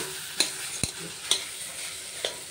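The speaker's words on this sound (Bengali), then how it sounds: "এখানে আলু কষানো হচ্ছে" Potatoes are sautéed in a pan, giving a steady close sizzle broken by several sharp scraping strokes of a spoon at irregular intervals.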